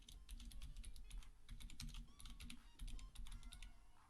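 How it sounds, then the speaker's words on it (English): Rapid typing on a loud computer keyboard, a dense run of sharp, close key clicks in uneven bursts with short pauses, heard alone without talk. "you heard all that typing. This thing is loud."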